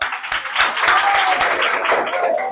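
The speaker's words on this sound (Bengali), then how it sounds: "মামুনি জন্য একবার হাততালি দাও" Students at Madhaipur High School applaud a girl in a short burst of crowd clapping, a close, bright patter that swells and holds for about two seconds.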